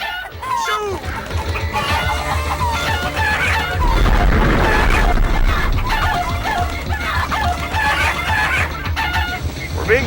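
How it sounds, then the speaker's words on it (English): Rocket chickens in the Crash Twinsanity video game cluck and crow busily over a steady rumbling game soundtrack, with loud clucks and squawks repeating throughout and someone talking over them now and then. "We're being chased by rocket chickens!"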